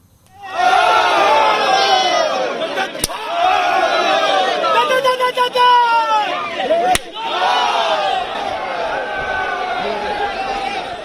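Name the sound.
crowd roaring at the start of Onathallu mock fight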